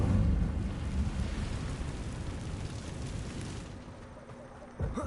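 Incendio fire spell cast in Hogwarts Legacy: a roaring whoosh of flame bursts loudly at the start, then rumbles and crackles, slowly fading over several seconds before a small thump near the end.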